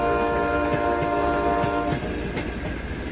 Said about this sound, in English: Or sometimes by cargo train as well